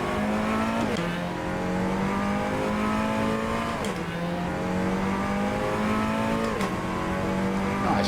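Seat Cupra TCR race car engine at Portimao in Assetto Corsa, a loud steady drone that climbs in pitch and drops sharply with each upshift, about three shifts, continuous and alone.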